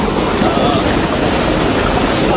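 Water being let out of a fish pond, a loud, steady, close rushing and hissing flow that runs unbroken for the whole stretch.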